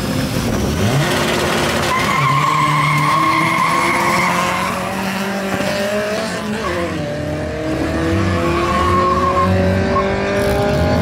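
A naturally aspirated race car roars continuously at a drag strip, the engine note climbing steadily with gear changes and some tire squeal, loud and close throughout.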